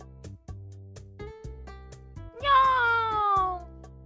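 A cat meows repeatedly in the video game Dandelion, a clear rising-falling mew near the end rising above a soft background music bed with light plucked notes.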